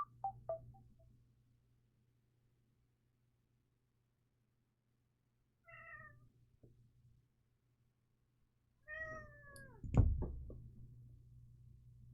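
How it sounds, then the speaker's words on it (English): A house cat meows a couple of times in a quiet room, short faint calls separated by long silences, with a low steady hum and a louder knock or thump near the end. "Cat, are you okay?"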